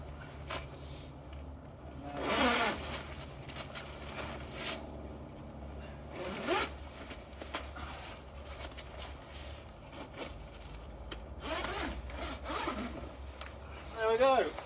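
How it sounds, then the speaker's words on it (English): A zipper is run around the door of an Advanta Pro Peak one-man bivvy tent, giving several separate rasping bursts of moderate loudness over a steady low background. "there's a little zip starts here, push it in, and then just whiz it round"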